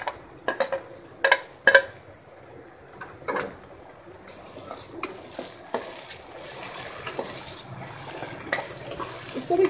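Tomatoes tipped into a hot pan of cooking ginger and garlic, then stirred: a few sharp clatters and scrapes early on, then a steady soft sizzle with occasional clinks of the spoon against the pan, close by.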